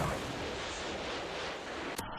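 A predator missile explodes in a first-person shooter game, a dense, loud roaring blast that fills the whole clip and cuts off abruptly near the end.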